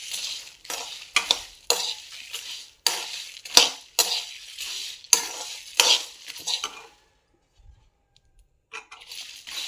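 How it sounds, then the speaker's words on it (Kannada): Spices for puliyogare gojju dry-roast in a pan, stirred in quick rhythmic bursts of rattling and scraping as the seeds skitter across the hot metal, then a short pause before the stirring resumes. "ಇದನ್ನು ಚೆನ್ನಾಗಿ ಡ್ರೈ ರೋಸ್ಟನ್ನು ಮಾಡ್ಕೋಬೇಕು ಫ್ರೆಂಡ್ಸ್"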